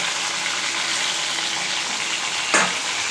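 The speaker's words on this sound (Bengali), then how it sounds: "এবার আমি কড়াই দিয়ে দিচ্ছি এক একে মাছগুলোকে আমি লাল লাল করে ভেজে নিচ্ছি" Hilsa fish pieces rubbed with spices fry in hot oil in a wok, giving a steady dense sizzle throughout, with a brief louder crackle near the end.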